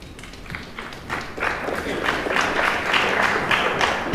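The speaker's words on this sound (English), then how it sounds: "the odd clap in the arena" Scattered applause and occasional claps from spectators in a pool arena during a US Open pool championship semi-final match, a soft, diffuse crowd patter that builds slightly over a few seconds with no talk.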